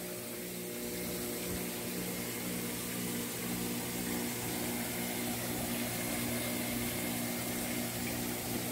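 A water filter pump running steadily in a setup that uses a washing-machine drum as the filter, giving a continuous, even mechanical hum with a wash of flowing water throughout.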